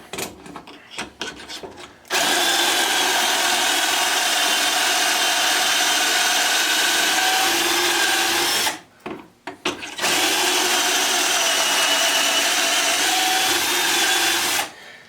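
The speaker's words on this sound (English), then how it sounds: "So we're just going to drill our 2 holes in here." A power drill runs in two long, steady bursts, whining at high speed as it bores pocket holes into wood using a pocket hole jig, with short pauses and handling clatter between.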